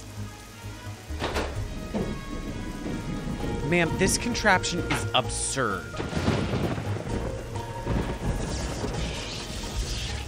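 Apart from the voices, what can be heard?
thunderstorm with rain in Nancy Drew video game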